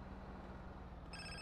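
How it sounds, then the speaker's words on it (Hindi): A phone rings inside the video game GTA San Andreas, a faint electronic ring that starts near the end over a steady low game background hum. "अभी देखते हैं हमारा कॉल आ रहा है किसी का"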